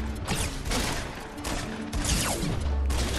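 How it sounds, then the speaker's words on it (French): Rapid bursts of gunfire ring out in a Fortnite battle royale match, dense and continuous with overlapping shots and mechanical clatter throughout. "Je tire dessus."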